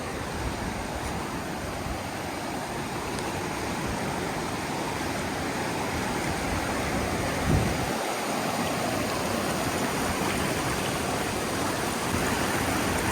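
A swollen creek in Arizona runs high and wide, its water rushing in a steady, full roar that stays loud and unbroken throughout, with no voices.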